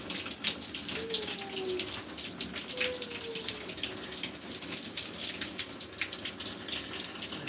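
Shower water runs steadily from a showerhead while a parrot is held beneath it, a constant close hiss of spray with faint bird chirps and a little background voice.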